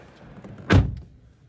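The front door of a 2024 Renault Twingo Electric shuts with a single firm, close thump, a short solid closing sound that fades quickly into quiet.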